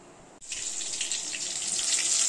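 Crushed garlic, green chillies and Bengali five-spice dropped into hot oil, a sudden bright sizzle that starts abruptly and holds steady and close, growing slightly louder, with no talking.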